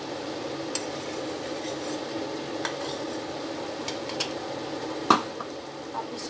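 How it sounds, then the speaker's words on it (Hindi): Mutton karahi cooks with yogurt and ghee in a pan, stirred with a soft continuous sizzle and a few sharp utensil clinks, one louder knock near the end. "अब ये दही और घी डालेंगे और अच्छी तरह भून लेंगे"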